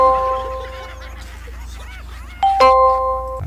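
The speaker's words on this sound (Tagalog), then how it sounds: "May nagdo-doorbell, no?" A doorbell rings with clear ding-dong tones, once early and again louder near the end, over a background of quiet talk and room noise.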